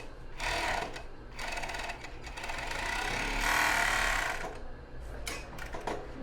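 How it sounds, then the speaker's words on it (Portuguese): A sewing machine stitches along the edge of a bra cup lining, running in a steady whirring burst with short pauses and a louder stretch in the middle, close and alone without talk. "Agora eu consigo colocar ele aqui para poder costurar essa beiradinha aqui que não pegou"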